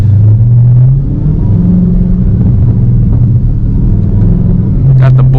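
A Dodge Charger SRT Hellcat's V8 growls loudly up close from inside the car, rising through the revs, dipping briefly and then pulling hard again as it accelerates onto a highway.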